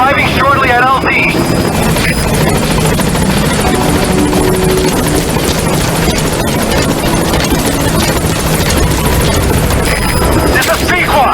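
A helicopter arrives at a landing zone in the video game Metal Gear Solid 5: The Phantom Pain, its loud, steady rotor roar filling the whole clip, with a short voice near the start.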